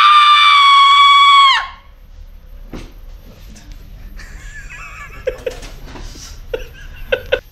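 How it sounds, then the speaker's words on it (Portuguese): A person lets out a loud, sustained high scream on cue for about a second and a half, cutting off abruptly, followed by quiet breathy chuckles and small vocal noises. "Dá o grito."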